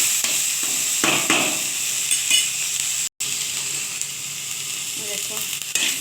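Onion and capsicum sizzle and crackle steadily in hot oil while being stirred, with a close, continuous frying hiss and occasional scraping, cooked for a mixed vegetable dish with curry leaves.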